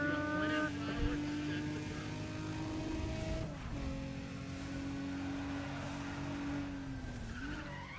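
Muted race car engines from the Need for Speed ProStreet game drone steadily, with pitch drops and rises as gears change, sounding fairly faint and smooth.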